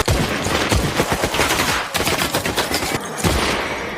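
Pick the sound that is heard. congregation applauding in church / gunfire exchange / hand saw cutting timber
gunfire exchange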